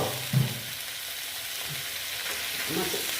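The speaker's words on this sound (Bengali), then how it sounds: "দেখো, তেলের সঙ্গে অল্প ডিমও আছে, একসঙ্গেই সব ভেজে নেব" Fish fat with a little roe frying in oil in a pan, a steady low hiss and crackle running under the whole stretch with a few soft bumps.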